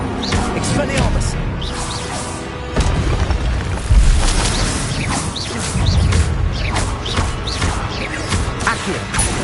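Repeated Expelliarmus spell effects from a video game burst out as booming whooshes and crackling impacts, loud and dense throughout, layered with a voice shouting spell names.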